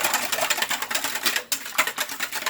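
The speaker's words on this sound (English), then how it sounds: "And then we whisk that one for another 1 minute so we can bind it together." Milk being whisked into a mixture, a rapid steady rhythmic clatter of the whisk against the bowl, close and fairly loud with a brief pause midway, no talking.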